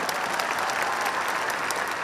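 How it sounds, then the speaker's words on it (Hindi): An audience at a Forever Living Products success day in Delhi applauds with loud, continuous, dense clapping from a large crowd. "एक बार दोबारा तालियां मारना प्लीज इस बात को।"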